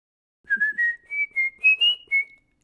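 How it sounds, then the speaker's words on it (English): Someone whistles the McDonald's commercial jingle, about eight clear, bright notes in a bouncy rhythm in D flat, starting on A flat, close and alone. "It's a whistle and the rhythm is da da da da da da da da."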